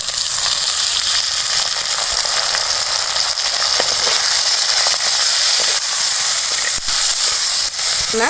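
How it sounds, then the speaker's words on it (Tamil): Chopped tomatoes hit a hot pan with curry leaves for a greens chutney, producing a loud, continuous hissing sizzle that stays close and steady throughout. "இப்போ வெட்டி வச்ச தக்காளியை சேர்த்துக்கலாம்"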